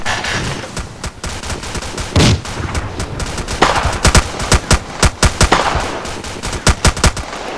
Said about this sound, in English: That machine gun is very close.